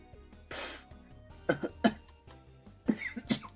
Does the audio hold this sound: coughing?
yes